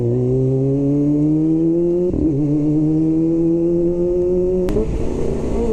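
Yamaha R25 sport motorcycle with an electrical fault, ridden on an open road with a loud, steady engine drone that climbs in pitch through each gear and dips briefly at two gear changes.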